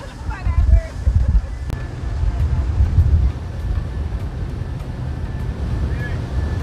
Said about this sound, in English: it's so windy, nobody gonna hear it now.